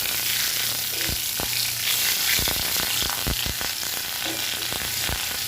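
Whole cumin, dried chilli and asafoetida sizzle in hot oil, a bright crackling hiss broken by sharp pops and spatters, close and steady with a faint low hum underneath.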